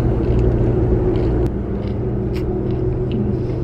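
A car cruising along a road from inside the cabin, a steady low rumble with road noise and a few small clicks and knocks, loud and continuous with no talking.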